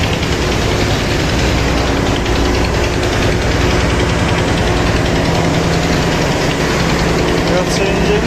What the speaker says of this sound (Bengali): এটা হচ্ছে ইঞ্জিন রুম পারাবাদ 11।